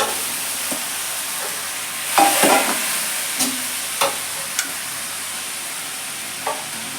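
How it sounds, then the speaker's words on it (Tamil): Cooked rice is stirred into a mushroom mixture frying in a pan. A steady sizzle sits under occasional scraping and clacking strokes of the spoon, close by. "இப்போ சாதம் அதில் சேர்த்துறேன்."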